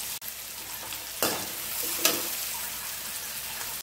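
Sliced onions frying in oil in a pan for a mushroom and broccoli sabzi, a steady close sizzle with a couple of brief louder bursts as they are stirred, no talk.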